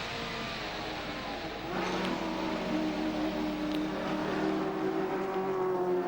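Race car engine at the 1992 Bathurst 1000 touring car race, a steady loud drone that swells with a clear rising pitch as the car nears, heard from trackside with no talk.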